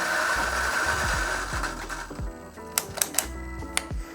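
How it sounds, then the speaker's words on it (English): A Sanremo X-One coffee grinder runs with a steady mechanical whir and droning motor that eases off midway, followed by several sharp clicks and rattles as the gate opens and coffee passes through the chamber, heard close up with no talking. "the grinder motor kicks in, the gate opens, and the coffee passes through the chamber"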